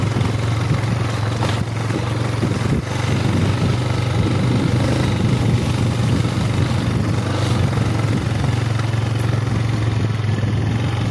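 A motorcycle engine runs loud and close with a steady low drone and rough mechanical texture, continuous throughout without speech.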